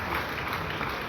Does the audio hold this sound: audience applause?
yes